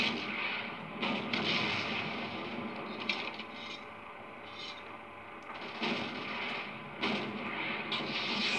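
Panzerschreck rocket launches in Call of Duty 2 during a wartime battle, heavy booming blasts and rumbling explosions with a dense, continuous roar of combat between shots, loud and close.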